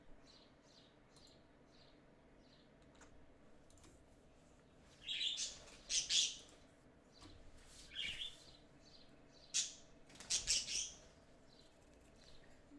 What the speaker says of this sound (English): You can hear my birds.